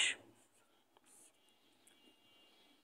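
A number is written by hand on paper during a primary-school math lesson, heard as faint, soft pen scratches after a brief louder sound at the start.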